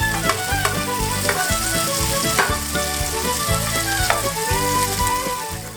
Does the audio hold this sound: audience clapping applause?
no